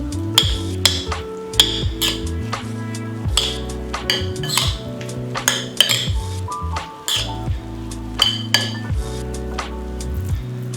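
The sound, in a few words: tossing seasoned carne asada with rub in a bowl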